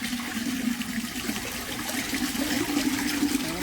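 Water pours steadily into a metal pot (handa) from a tap in a village, a continuous gushing, hollow rush at close range that keeps the same level throughout, with no voices.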